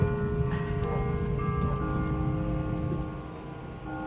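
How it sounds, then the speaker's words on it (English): Bells ring out over a San Francisco street, tolling tones lingering and overlapping against a background of traffic and city hum, heard from a vehicle with no talking. "I just wanted you to hear the bells."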